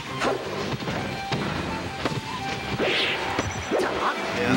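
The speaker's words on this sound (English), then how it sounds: "Classic Marth, just swinging the fucking sword." Marth's sword swings and hits in a Super Smash Bros. Melee match, sharp whooshing slashes and impact cracks repeating rapidly over busy game sound, with a faint voice now and then.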